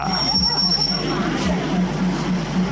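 A train rumbles steadily on the Death Railway in Kanchanaburi, Thailand, with rhythmic clacks of wheels over the rails and a crowd murmuring faintly in the background.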